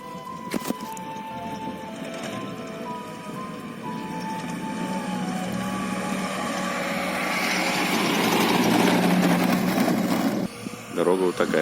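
A car drives across the dry, sandy and corrugated bed of the Aral Sea near Aralsk, its engine and road rumble rising steadily in a broad, continuous drone, with people talking over it.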